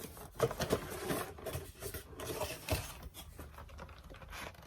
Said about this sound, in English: All right, so I split the tape on the box. Let's open it up